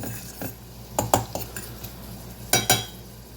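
A utensil stirs onions caramelizing in a pot, with a few sharp scrapes and clinks against the metal in irregular bursts over a quiet background, close and without talking.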